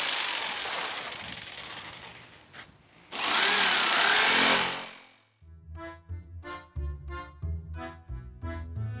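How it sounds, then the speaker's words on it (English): Cheap $25 jigsaw cutting out wooden letters: a loud, steady buzzing cut runs for about five seconds, then stops and gives way to a series of short knocks and taps. "This little jigsaw actually did really amazing."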